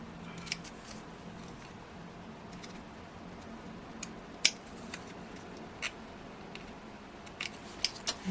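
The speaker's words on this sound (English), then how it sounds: "I'm just going to trim some of these pieces off" Scissors trim small pieces of Hunkydory craft paper for card making, producing faint, sparse snips and ticks scattered over a quiet room tone. The cuts are close but soft and come at irregular intervals, with no talk.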